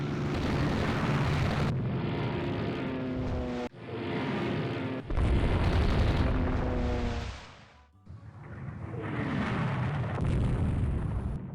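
An airstrike pounds battleships in the naval strategy game Rule The Waves 3, a series of heavy booming blasts, each rolling and rumbling before cutting off, with short gaps between the roaring detonations.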